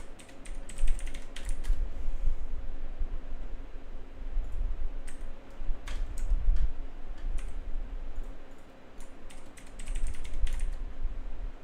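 Rapid clacking keystrokes on a Razer computer keyboard, close and steady with bursts of faster typing, heard alone without any voices.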